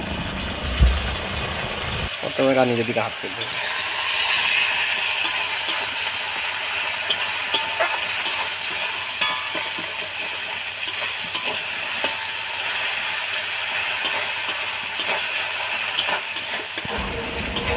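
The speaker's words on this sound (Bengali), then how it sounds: "লঙ্কাটা কিছুটা ভাজা হয়ে গেলে এরপরে আমরা দিয়ে দেব আদা বাটা।" Chilies and ginger paste frying and stirred in a pan while cooking local chicken curry, a steady close sizzle with scraping stirs throughout, rising suddenly after a brief quieter opening.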